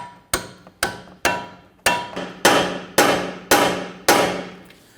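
A hammer strikes a Kia Sorento front lower ball joint to separate it, eight sharp metallic clanks in a fairly steady rhythm, each ringing briefly before the next blow, with no talking.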